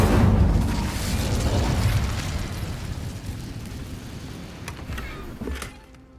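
A spell burst from the Incendio fire charm in Hogwarts Legacy, heard as a loud whooshing boom that fades over several seconds into a low rumble, with a smaller crackling pop near the end.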